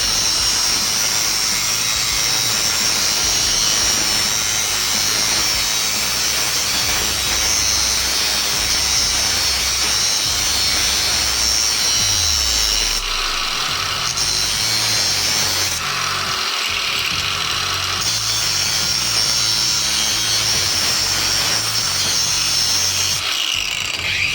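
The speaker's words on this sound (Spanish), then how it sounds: "Con la ayuda de una amoladora o radial cortamos el casquillo del fuelle" An angle grinder cuts through the metal boot clamp on a CV joint of a Citroën Saxo VTS driveshaft, a loud, close, continuous high-pitched grinding whine that holds steady and briefly dips in pitch as the disc bites, with no talking.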